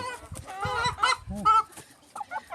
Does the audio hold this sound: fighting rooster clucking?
yes